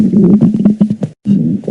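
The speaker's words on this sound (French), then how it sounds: "j'ai lâché un de ces gargouillements de ventre" A loud, churning stomach gurgle from an empty belly, rumbling continuously in low bubbly waves, breaking off briefly near the end and then resuming, with no talking.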